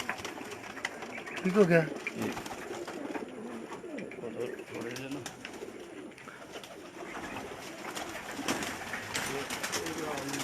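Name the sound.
pigeons cooing on a rooftop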